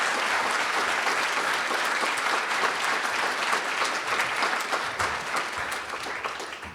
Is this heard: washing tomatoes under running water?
no